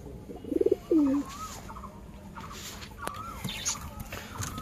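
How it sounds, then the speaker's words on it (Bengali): Pigeons kept in a home coop cooing close by, a rapid burst of pulsed coos and a drawn-out call at the start, then fainter coos and rustles against a low background hum. "আর এদিকে অনেক কবুতর হয়ে গেছে"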